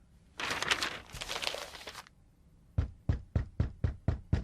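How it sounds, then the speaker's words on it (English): Knocking at a street door downstairs: after a burst of papery crinkling rustle, seven sharp, evenly spaced knocks ring out in a steady rhythm, close and distinct. "Suddenly, they heard a loud knock at the street door downstairs."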